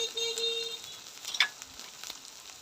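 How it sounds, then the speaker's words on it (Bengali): Ground turmeric, coriander and chilli powder frying in oil for a chicken curry, giving a soft, steady close sizzle with light stirring and scraping throughout. "এক চামচ মরিচ গুঁড়া দেওয়ার পর ভালো করে কষাই নেব"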